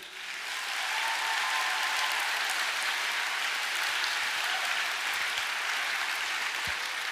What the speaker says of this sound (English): A big round of applause, obviously, for your teachers and your parents for getting you here today.